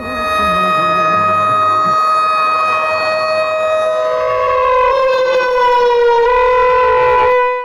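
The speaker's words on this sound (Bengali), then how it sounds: "নেতাজির জন্মের মুহূর্তে দু মিনিট ধরে সাইরেন বাজানো হয়" A loud civil defense siren wails steadily and continuously for a two-minute commemoration at Barrackpore, its pitch slowly shifting, with a low rumble underneath at first.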